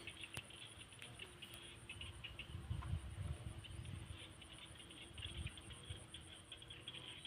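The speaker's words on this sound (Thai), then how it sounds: "คืออยากให้พี่น้องได้ยินเสียงกบเสียงเขียดน้ำกัน" Insects and frogs call in a rice field at evening, with a steady high-pitched chirring drone and soft, scattered low croaks and patter heard faintly from a distance.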